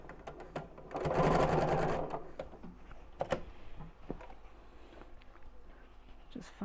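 A sewing machine runs in a steady burst for about a second while stitching a bag with bamboo handles, followed by quieter clicks and handling noises as the fabric is moved, with someone talking nearby.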